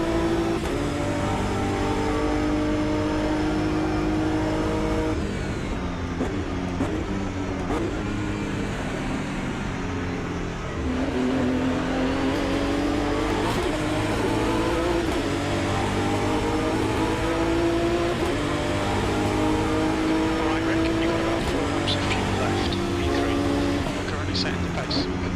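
A GT3 race car engine in the Automobilista 2 racing sim drones continuously, with revs rising and falling through gear changes and a dip in the middle, while someone talks over it throughout.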